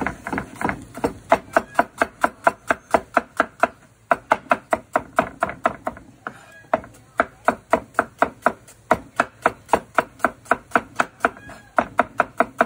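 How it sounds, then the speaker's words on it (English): Knife thinly slicing an onion on a cutting board, rapid even rhythmic taps close by, one brief pause partway, then steady chopping resumes to the end. "Alright, next, onion. Okay, just cut this one very thin."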